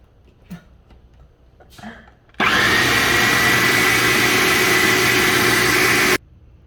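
Blender pureeing pumpkin: after quiet handling and a few clinks, the motor starts abruptly into a loud, steady whirring roar that runs for about four seconds, then cuts off sharply.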